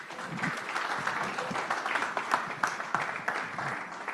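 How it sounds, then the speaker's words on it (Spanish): A conference audience at a Spanish-language health-care panel gives itself a round of applause: a moderate, fairly distant patter of many hands clapping, steady throughout the short stretch. "un aplauso grande para todos nosotros"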